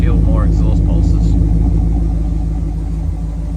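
Holden VT Clubsport with a 5-litre engine idles up close with its muffler fitted, giving a loud, steady low rumble of exhaust pulses that eases slightly toward the end, with no one talking.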